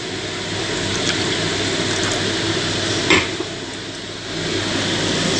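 Half a cup of water poured into a pan of roasted spices, a steady sizzling, bubbling wash of sound with a brief louder splash partway through, close and fairly loud.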